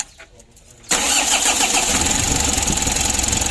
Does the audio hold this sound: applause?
no